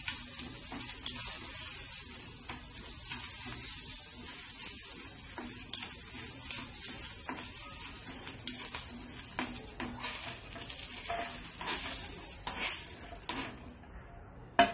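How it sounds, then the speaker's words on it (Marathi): Garlic frying in oil for a methi bhaji with tur dal gives a steady close sizzle with stirring scrapes and occasional clinks of a spoon against the pan, cutting out near the end. "त्यात लसूण पण टाकून देऊ थोडंसं फ्राय करायला"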